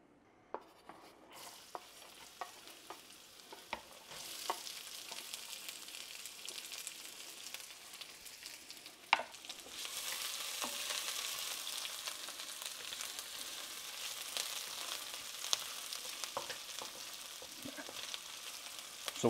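Carrots and regular onions added to hot canola and sesame oil for egg fried rice, a soft sizzle that swells into a steady frying hiss, with occasional utensil clicks and scrapes against the pan.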